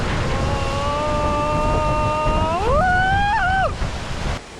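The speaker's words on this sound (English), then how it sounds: "Where on this earth can you find a waterfall like this" A jungle waterfall in the Fouta Djallon highlands of Guinea gives a steady, broad rushing roar throughout, overlaid by clear rising and falling whistle-like tonal calls near the middle before the sound eases off at the end.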